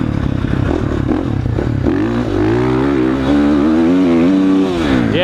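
A KTM motorcycle engine stuck in false neutral revs loudly and continuously, its pitch climbing and wavering in sustained surges close to the microphone with no talking.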